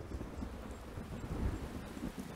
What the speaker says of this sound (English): He didn't react to anything until the loud crack of thunder pierced his ears.